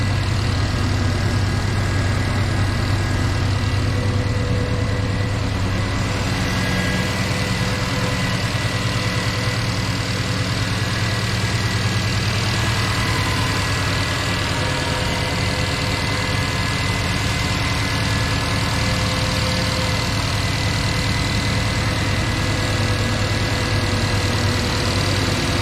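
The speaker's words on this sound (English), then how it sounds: "Fans just kicked on." A car engine fitted with a Holley Sniper fuel injection system idles steadily while the radiator cooling fans run, a loud, constant rumble and whir close by with no talking.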